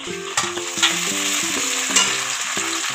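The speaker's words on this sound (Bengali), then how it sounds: "ভাজা ভাজা হয়ে গেছে, এবার জিরে আর গোলমরিচের পেস্ট দিয়ে দিলাম" Onion with ginger-garlic paste, cumin and black pepper paste frying in a pan for egg kopta, a dense crackling sizzle with a few spatula clinks and knocks, near and steady, alongside a recurring tonal melody.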